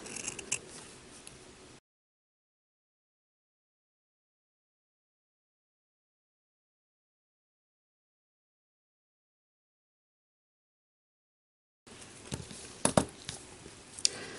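Scissors snip around a paper clown puppet's hair cut from paper, a short run of quiet cuts at the start, then a long stretch of silence, then a denser burst of crisp snipping and rustling near the end.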